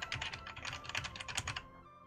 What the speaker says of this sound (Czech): Mechanická klávesnice mechanická. To znamená, switche jsou celkem tichý.